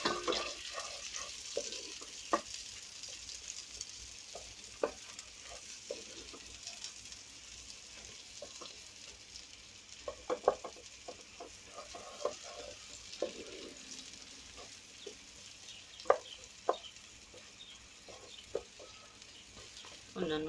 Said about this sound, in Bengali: পেঁয়াজ কুচানো, পেঁয়াজটাকে একটু ভেজে নিব